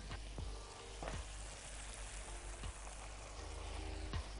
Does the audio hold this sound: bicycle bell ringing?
no